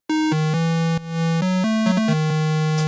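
A bright, buzzy wavetable synthesizer with no filter, playing a short sequence of sustained notes, harmonically rich, alone without any voice.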